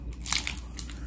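Close, crisp crunch of teeth biting into a frozen milk ice cream bar, a few quick crackling bites over a faint background hum.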